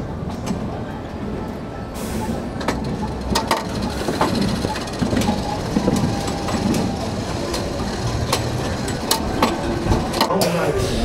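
The Stunt Pilot roller coaster train runs at Silverwood Theme Park in Athol, Idaho, with a steady loud rumbling roar and sharp clattering knocks throughout. Voices are mixed in under the noise.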